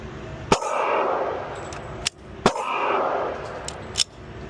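Glock 43X pistol shots at a shooting range: two sharp, loud cracks about two seconds apart, each trailed by a ringing decay, with fainter clicks and handling noise in between.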